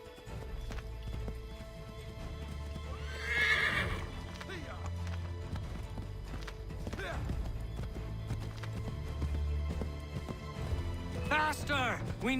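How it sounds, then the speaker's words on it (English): A horse in the Assassin's Creed video game gallops with steady clip-clopping hooves and lets out loud neighs and whinnies, heard under game character dialogue and background sound. "Get back on the horse, Connor."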